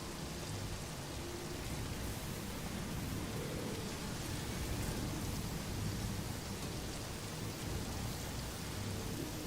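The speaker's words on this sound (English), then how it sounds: "It's always raining on this damn planet." A rainstorm pours down in the video game Satisfactory, a steady, even hiss of dense rain with a low rumbling undertone, continuous and unbroken, with no voices.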